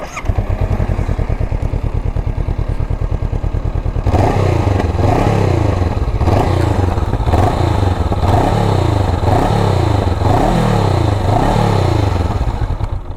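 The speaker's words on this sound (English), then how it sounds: "So let's hear the exhaust sound. This is, by the way, a parallel twin." A Honda CB500X parallel-twin motorcycle exhaust idles with a deep, bassy, even thump, then rises into rhythmic revving surges that swell and fall repeatedly, loud and close.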